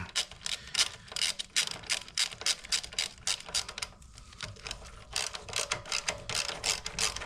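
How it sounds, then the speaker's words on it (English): A 13mm socket ratchet clicks steadily while tightening a bolt by hand on a Serveta Jet 200 scooter, close-up rapid pawl ticks in bursts with a brief pause midway. "you want to use your 13mm socket and tighten it by hand"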